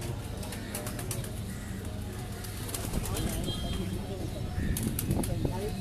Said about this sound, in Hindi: ये देखे बड़ी खूबसूरत गोल्डन कबूतरों में से